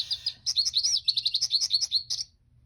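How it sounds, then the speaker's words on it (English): An American goldfinch sings a quick series of bright, high twittering notes, steady and close, ending abruptly after about two seconds. "American goldfinch."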